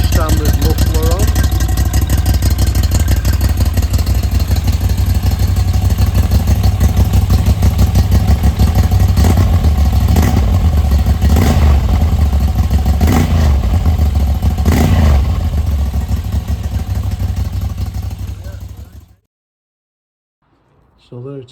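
A V85TT motorcycle engine with a decatted exhaust and standard muffler idles loudly and close with a deep, rapid throbbing exhaust note and a few small revs, then abruptly stops.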